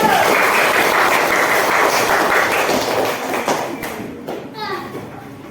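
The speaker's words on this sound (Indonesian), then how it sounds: "Tepuk tangan buat kelompok 1 dulu" A class of schoolchildren claps for group 1 in a classroom, a dense, loud burst of applause that tapers off over several seconds, with children's voices mixed in.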